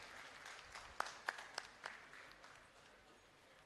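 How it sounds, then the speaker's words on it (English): A small audience at a birth anniversary commemoration gives a brief, sparse round of applause, a few distinct sharp claps standing out before the clapping thins and fades quietly. "we just have a huge round of applause for all these attributes Sir has carried forward"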